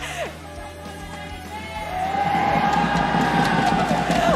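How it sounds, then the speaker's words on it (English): An esports audience at an MPL Malaysia Mobile Legends match cheers and yells, the crowd noise swelling after a couple of seconds into a sustained roar. "Nak dengar cheer sikit?"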